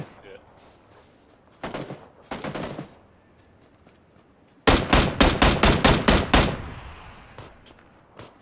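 Rifle gunfire in a video game, likely bolt-action: a few scattered shots early, then a loud rapid burst of about eight evenly spaced cracks that trail off, with voices talking in the background.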